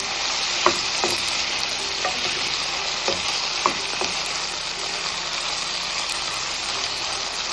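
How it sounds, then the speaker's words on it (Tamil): Tomatoes sauté in a hot pan for samba rava vegetable upma, giving a steady broadband sizzle with a few sharp clicks and scrapes of stirring scattered through, close and continuous with no talking. "தக்காளி நல்லா வதங்கட்டும்."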